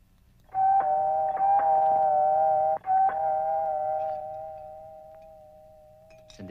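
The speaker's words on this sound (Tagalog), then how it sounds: "Doorbell mo." A doorbell in a Filipino action film rings out in a sustained electronic chime lasting several seconds, clear and fairly loud, with a few quick repeated strikes near the start before the tone slowly fades.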